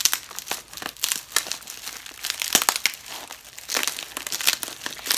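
Heavy packing tape and bubble wrap crinkling and tearing as a well-taped box is opened, loud close bursts of crumpling plastic in uneven rhythm, with no speech.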